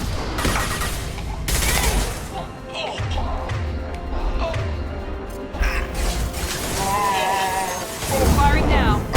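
Gunfire in the Mass Effect 2 video game, bursts of shots over busy mechanical clanks, music and ambient effects, with speech mixed in throughout.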